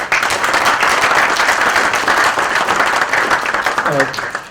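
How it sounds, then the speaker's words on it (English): A crowd applauds steadily and loudly at a university programme launch in Johannesburg, a dense wash of clapping that holds for several seconds before tapering slightly at the end. "another round of applause for Chancellor Tau"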